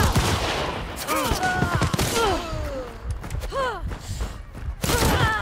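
A Vetterli 71 Karabiner fires in Hunt: Showdown amid a busy firefight, with several sharp gunshot cracks scattered through it alongside other weapon blasts and quick whooshing game effects, under energetic voices of players.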